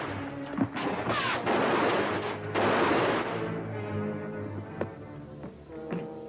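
Rifles firing in a 1955 film gunfight: several sharp gunshot cracks and bursts of fire with crashing noise, loud in the first half, then a few scattered distant shots.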